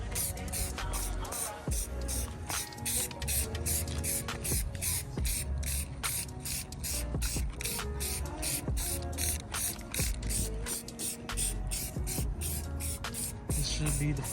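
Aerosol clear coat sprayed onto a small faded carbon fiber piece, a steady close hiss running throughout with faint mechanical clicks and rattles mixed in.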